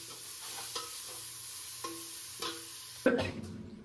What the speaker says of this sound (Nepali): अनि यसलाई मजाले भुट्छु अब।